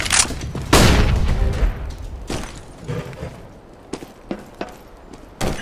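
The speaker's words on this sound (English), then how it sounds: "Flashbang!" A flashbang grenade detonating in Counter-Strike: Global Offensive: a loud sharp blast followed by a booming, fading tail, then several more thuds and gunshot-like bangs further off.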